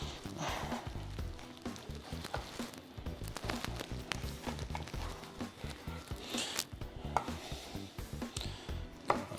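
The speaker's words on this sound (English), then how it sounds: "so we're going to cut the first one." A knife cuts through a Costco New York strip steak on a board, with repeated dull thuds and soft slicing strokes in an uneven rhythm, close up and without talk.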